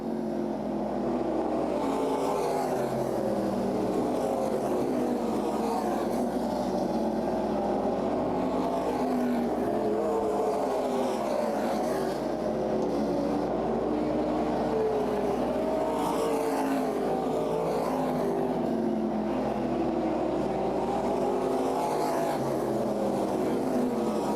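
Race cars run laps at Berlin Raceway in a CRA Super Series event, a constant layered roar of engines circling the oval with swelling and fading passes, loud and unbroken throughout.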